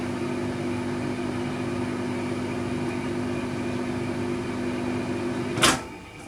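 A microwave oven runs steadily with a constant low hum, warming gelatine back to liquid, then a sharp click or door thud near the end.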